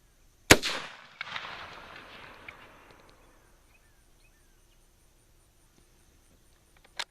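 A Spanish Mauser Model 1893 bolt-action rifle fires a single sharp, loud outdoor shot that rolls away in a long fading echo, followed by silence and a faint click near the end.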